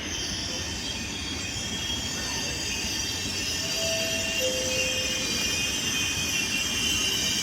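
A train pulls into a platform at Padova station, its steady rumble of wheels filling the scene with brief high wheel squeals partway through, continuous and fairly close with no voices.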